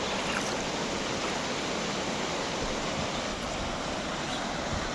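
Steady broadband rush of a river flowing over rocks, continuous and fairly loud from start to finish with no voices.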